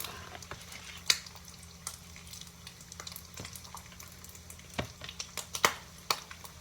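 Bacon frying in a pan gives a soft, steady sizzle, with scattered faint pops and light clicks of stirring or utensils close by.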